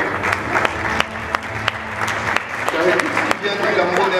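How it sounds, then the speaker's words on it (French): An audience applauding at a tribute event for Cameroon, dense sustained clapping from a crowd in a hall, loud and steady throughout the clip. "on peut l'applaudir"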